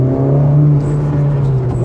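Inside a Honda Civic Type R hatchback, the engine drones steadily under acceleration, loud and close, with a low hum that holds through the short pull.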